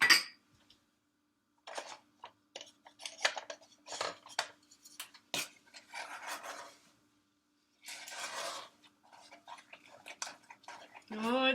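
A wooden spoon scrapes and stirs through thick homemade Play-Doh dough in a bowl, giving short gritty bursts of rubbing separated by pauses, with quiet voices now and then.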